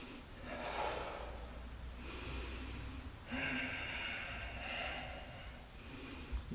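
Steady, close breaths during a vinyasa yoga flow in a full-body workout, with long audible inhales and exhales rising and falling in a slow rhythm and no speech.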